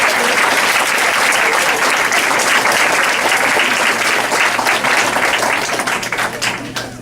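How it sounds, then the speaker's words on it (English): Loud, dense applause from an audience at a student entrepreneurship presentation, sustained clapping that fades toward the end. "I want everybody in the audience to give a big round of applause for every single student"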